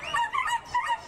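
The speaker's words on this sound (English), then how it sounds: "You can hear the barking in the background." Dachshunds at a wiener dog race at Canterbury Park yip and bark in quick, excited bursts, close and fairly loud, with no talking.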